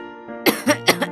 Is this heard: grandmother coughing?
yes